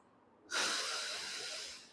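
One long, close breath during a diaphragmatic breathing exercise, with ribs kept from expanding: a sudden airy rush that holds steady for over a second and slowly fades, with no talk.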